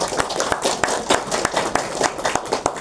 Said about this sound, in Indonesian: Kita beri aplaus Ibu Bapak